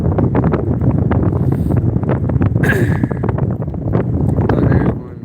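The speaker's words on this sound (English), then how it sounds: "can you guys tell me what the sound quality is like? And you know, if it's too windy." Wind buffets a microphone on a dolphin-watching boat, a loud continuous low rumble with gusty bursts throughout, while faint speech sits under the roar.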